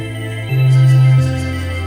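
A low, filtered drum and bass synth bass line, without the sub, plays alone in a build-up, its muffled tone shifting between sustained notes and swelling in loudness midway before easing back.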